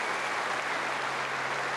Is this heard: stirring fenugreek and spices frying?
no